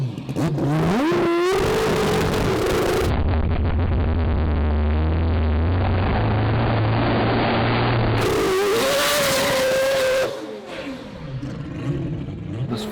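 A four-rotor rotary engine car launching hard and accelerating, loud and close, its buzzing note rising steadily through gears with a short lift before climbing again, then dropping off at the end.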